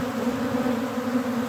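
Red bees swarm around a pollen feeder, making a dense, continuous buzzing hum close by, steady and loud with slight swells and no voices.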